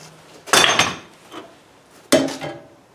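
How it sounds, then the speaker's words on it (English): Two sharp metallic strikes of a hammer bending a part on an Exmark Ultra Vac mower, about a second and a half apart, each with a brief ringing tail, close by, with a fainter knock between them. "Might take a hammer and just try to bend this part down to get that smooth."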